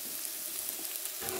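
Red onion sizzles steadily in a hot pan for zucchini, a dense crackling hiss holding even throughout, with no voices.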